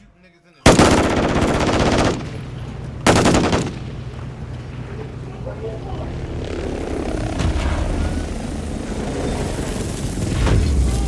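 Machine gun fire in a DMZ military-simulation video game, two loud sustained bursts close up followed by a rumbling aircraft engine drone, with a brief spoken word at the start.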